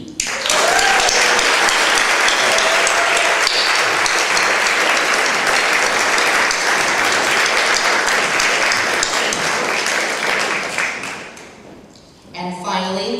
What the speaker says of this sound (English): A nice warm round of applause for the lovely Yuki.